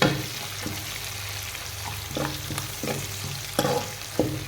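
Ginger cut into long strips fries in a pan for a kadhi sabzi, a steady close sizzle broken by repeated scraping stirs of a spoon.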